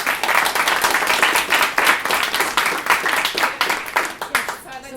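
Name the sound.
audience applause at event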